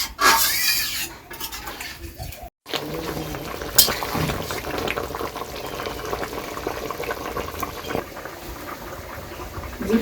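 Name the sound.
water poured into sautéed vegetables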